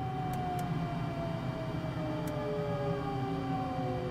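In Microsoft Flight Simulator 2020, the Darkstar jet's engine starts with a steady whine that slowly rises in pitch over a low hum, accompanied by a few faint clicks.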